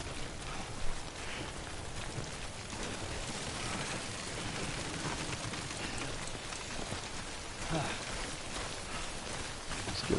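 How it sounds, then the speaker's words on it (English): Steady rain in Death Stranding, an even wash of falling drops and patter on surfaces that runs unbroken throughout at a fairly quiet level, with a voice talking over it. "It's always damn raining in this game."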